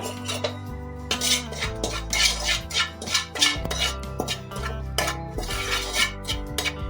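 A metal spoon stirs ground cumin, turmeric and Kashmiri chili powder in a pan, scraping and clinking against the metal continuously and fairly close, with no voices.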